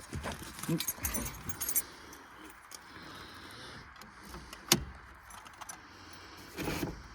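Car keys jangle briefly on a seat inside an AMC car during dash removal, a few light clinks near the start and later isolated jingles, faint against a quiet workshop background.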